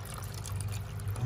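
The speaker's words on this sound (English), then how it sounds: "you're gonna open up this BKT tire and fill it with some nice warm water" Warm water pours into the BKT tire of a Spin Master Monster Jam Megalodon Monster Wash toy monster truck playset, a short splashing trickle heard close up while a person talks over it.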